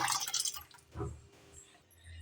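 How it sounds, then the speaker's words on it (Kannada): Cooked lentils and their cooking water tipped into a kadai on the stove, giving a short splashing pour with dripping at the start, a soft thud of liquid, then quieter trickles, heard alone and close. "ನಾನು ಬೇಯಿಸಿ ಇಟ್ಕೊಂಡಿರೋ ಬೇಳೆನ ಹಾಕೋತಾ ಇದ್ದೀನಿ ನೀರು ಸಮೇತನೇ ಹಾಕೋತಾ ಇದ್ದೀನಿ"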